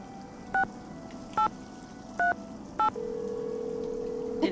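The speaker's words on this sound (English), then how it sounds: "Did anyone ever have to have a phone like this where you had to push the buttons?" Four separate push-button tone beeps from a telephone keypad in a Nancy Drew video game, evenly spaced and crisp, followed by a steady continuous dial tone, all quiet with no talking.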